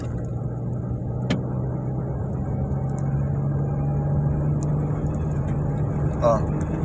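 Ford Expedition engine with a 6R80 transmission showing an incorrect fifth-gear ratio, a steady droning hum close by with little change in pitch, a voice faintly over it.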